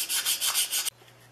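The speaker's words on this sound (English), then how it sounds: "use the sanding stick and a roll up piece of sandpaper to get into these slots here and here" A plane cap iron from a Stanley No. 129 Liberty Bell fore plane is rubbed with a sanding stick and rolled sandpaper, giving several rhythmic, close scratchy strokes that stop abruptly near the end.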